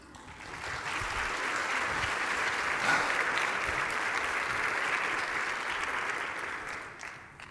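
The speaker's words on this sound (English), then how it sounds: "now I got a round of applause" A conference audience applauds to welcome a speaker, many hands clapping in a full, even wash that rises, holds steady for several seconds and then tapers off, heard from within the room.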